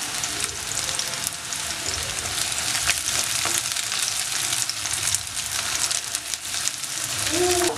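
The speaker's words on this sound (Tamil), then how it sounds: "பெரிய வெங்காயம் லைட்டாக வதங்கினதுக்கப்புறமா பொடி பொடியாக நறுக்கி வச்சிருக்கிற இஞ்சி பூண்டு சேர்த்துக்கிறோம்." Chopped onion, ginger and garlic fry in a pan with a loud, steady, continuous sizzle and crackle, close up and without a break.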